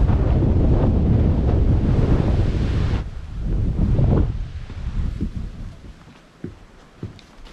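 Strong wind on a coastal walk in northern Scotland buffets the microphone in heavy, roaring gusts, then eases into quieter, intermittent rumbles with a few sharp bumps.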